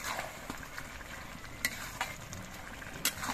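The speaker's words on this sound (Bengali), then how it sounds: "এবার সব কিছু দিয়ে নেড়ে চেড়ে মিশিয়ে বেশ কিছুক্ষণ রান্না করতে হবে" Bottle gourd curry with roasted cumin powder stirred in a pan, a soft continuous sizzle with scattered clinks and scrapes of a spoon, fairly quiet and close, no voices.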